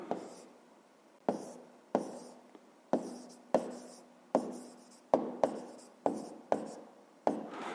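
A pen writes an answer on paper during a fifth-grade math exercise. Close, quiet scratching strokes come in about a dozen short bursts, each starting sharply and then fading, with no talk.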